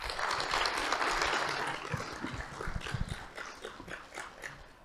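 Audience at a CFA Society Malaysia talk applauding, a loud burst of clapping that fades to scattered, uneven claps toward the end.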